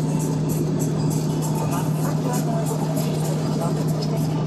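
A car cruising on the German Autobahn between Frankfurt and Nürnberg near Würzburg, giving a steady, loud road and engine drone with tire rumble and wind noise throughout, and someone talking over it.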